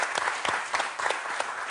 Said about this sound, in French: Alors, on lui fait une ovation à Marie.